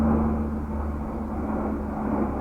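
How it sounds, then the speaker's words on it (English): A military plane flies overhead, a steady low engine drone with a faint hum line, holding even and loud throughout with no voices. "That's actually some kind of weird military plane."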